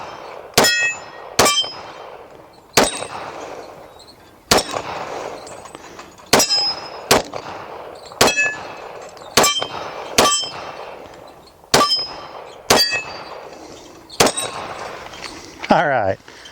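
Shots from an FN FNS-40 .40 S&W pistol strike a steel spinner target: a dozen or so sharp cracks, each followed by a ringing metallic clang, spaced irregularly about a second apart, loud and close.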